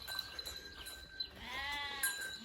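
A single bleat from a sheep, fairly faint and nearby, over a quiet outdoor highland background with a faint steady tone, in rain.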